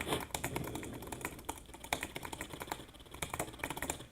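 Rapid, steady typing on a non-mechanical computer keyboard, a dense run of soft close-up key clicks with no speech.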